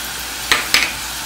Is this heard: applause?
no